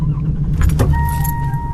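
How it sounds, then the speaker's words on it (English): A car engine cranks and catches as a song opens, preceded by a faint jangle of keys, loud and close with a steady low rumble throughout. "she starts a car, forcing us to notice a sound so familiar we rarely acknowledge it"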